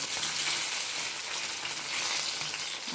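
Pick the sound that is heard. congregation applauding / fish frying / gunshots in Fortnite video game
fish frying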